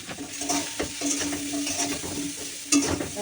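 Filling for triangular parathas stirred and fried in a pan, a steady close sizzle with repeated scraping strokes of a spoon against the metal and a sharper clatter near the end.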